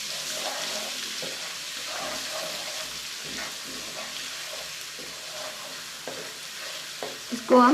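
Ginger garlic paste browning in a pan gives a soft, steady sizzle with faint occasional stirring taps, fairly close, ending in a brief louder knock.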